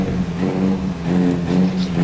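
A truck engine revving, a loud steady low rumble that swells and eases twice, close by, with no one speaking.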